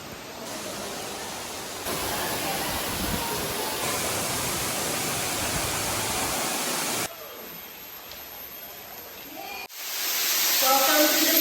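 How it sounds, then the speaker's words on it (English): Rushing water from a secret waterfall in Bali, a steady, dense broadband roar that holds loud and close, drops briefly, then swells again near the end with no voices. "Welcome to the secret waterfall."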